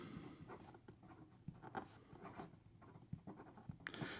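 A TWSBI Diamond 580 Iris fountain pen writes on paper with Stanford Pen Studio Haunted House ink, producing soft, close scratches and light taps in an irregular rhythm, with no talking.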